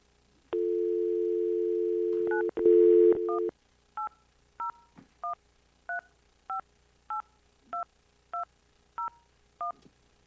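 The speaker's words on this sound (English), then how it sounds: "It looks like we've lost Commissioner Graves on the phone. Yeah, try him back" Telephone line during a county commission meeting: a steady dial tone for a few seconds, then a rapid series of about eleven short, evenly spaced touch-tone dialing beeps, clear and loud with no talking.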